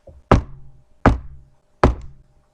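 Three heavy, evenly spaced knocks on a castle door, each a sharp thud with a short decay, close and loud with nothing else heard.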